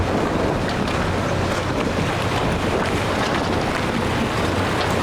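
A sailing boat's hull slams through rough, shallow water, giving continuous loud rushing and splashing with heavy wind buffeting on the microphone and no voices.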